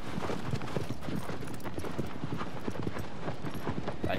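A horse's hooves pound steadily at a gallop in Shadow of the Colossus, a dense, continuous clip-clop rhythm close and loud throughout with no voices.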